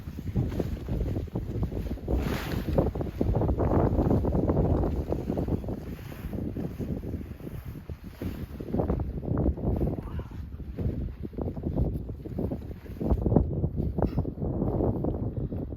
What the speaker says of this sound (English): I found it was just too windy